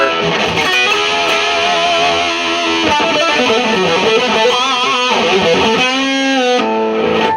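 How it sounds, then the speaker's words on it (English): A bright, sustained 1957 Gibson Les Paul Custom electric guitar plays chords and notes on the treble pickup, steady and loud with no talking. "the treble pickup is definitely brighter"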